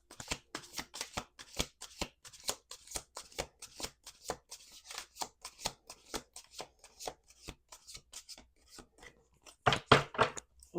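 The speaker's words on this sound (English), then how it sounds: "Two more shuffles." Tarot deck shuffled by hand in a long run of quick riffling card strokes, close and fairly quiet, with a brief louder burst of shuffling near the end.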